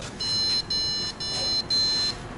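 Electronic beeping from a device, a thin high-pitched tone pulsing in several short repeated bursts over a steady background hiss.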